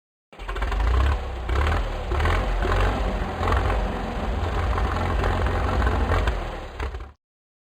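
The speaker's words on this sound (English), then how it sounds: "Tractor." A tractor engine runs steadily with a low, rumbling, slightly knocking idle, close and loud, starting and stopping abruptly with no other sounds.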